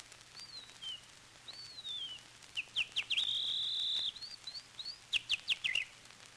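Whistled imitation of a starling's song in a 1934 Danish recording: a sequence of clear, high warbling slides and quick chirps, with a sustained trill in the middle, heard alone over a faint low hum.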